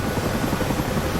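A Chinook helicopter in the flight simulator DCS passes close overhead, a loud, dense rotor chop and engine roar filling the short moment, with no talking.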